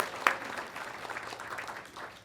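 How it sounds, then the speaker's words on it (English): Audience at a college cybersecurity summit giving a round of applause to staff members, a moderate, steady patter of clapping with one sharp clap standing out early, lasting a couple of seconds. "let us give you a round of applause?"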